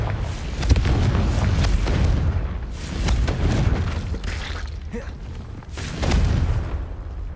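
Repeated booming blasts of the Confringo fire spell in Hogwarts Legacy, several heavy explosive thuds roughly every second or two over a rumbling low backdrop, with game sounds in between.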